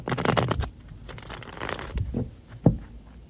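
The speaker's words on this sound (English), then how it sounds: "One more shuffle." A deck of tarot cards is shuffled briskly, a riffling flutter followed by a few softer taps and slides, close and clear.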